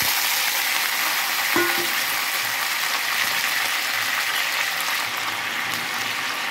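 Vegetable pieces frying in hot oil in a kadai on a stove, a loud steady sizzle that fills the whole stretch, with a brief clack of utensil against the pan partway through.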